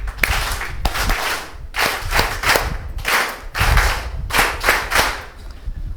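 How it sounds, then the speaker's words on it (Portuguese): Loud crowd clapping in response to a call for applause during a New Year's address to the nation in Mozambique, dense and steady with rhythmic bursts swelling and easing over six seconds, no talk over it. "Uma salva de palmas bem forte para o nosso Deus."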